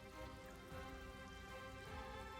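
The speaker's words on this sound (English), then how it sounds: "Begins to lightly rain." Light rain ambience effect playing during a tabletop role-playing session: a soft, steady patter of drops on a surface, quiet and continuous with no voices over it.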